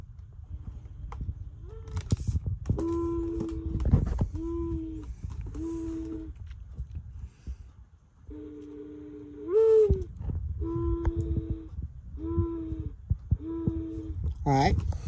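A singing bird clock plays its mourning dove call, a series of soft repeated cooing hoots in a steady rhythm, with mechanical clicks and some handling noise around the tones.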